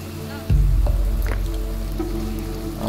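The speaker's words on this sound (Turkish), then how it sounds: "güzel, yağmur yağıyor" Steady rain falls in the Dawn of Man video game, a continuous soft wash of patter with a low rumble under it, starting abruptly and holding at an even level.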